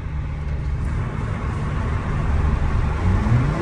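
A Toyota A90 Supra with the B58TU engine and an Armytrix catless downpipe drones from inside the cabin on the road, a steady low exhaust rumble that swells slightly as the car pulls.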